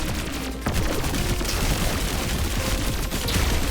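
A deployed turret fires continuously in the roguelike shooter game Pathogenic. Dense, rapid automatic fire with explosive crackle fills the whole stretch at a loud, steady level, with no speech.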